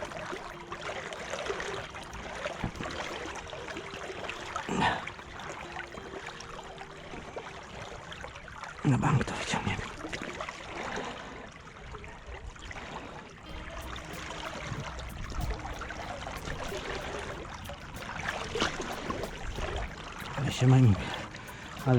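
Steady rushing river water churns throughout, a constant broadband roar with occasional splashes and knocks, and people talk intermittently over it.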